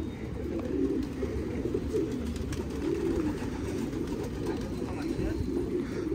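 Pigeons cooing in a morning loft setting, repeated soft low coos rising and falling over steady background noise, close by and continuous, with a few faint chirps.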